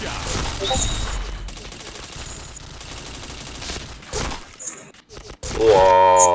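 Gunfire in a video game: dense bursts of rapid shots at the start, then a few sharp single cracks, with a voice breaking in near the end.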